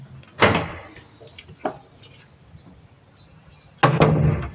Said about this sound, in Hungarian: Az ajtót be kell csukni